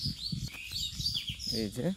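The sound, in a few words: birds calling in a Bengal village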